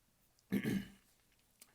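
A single short, muffled cough close to the microphone in a quiet room, with a faint click afterward.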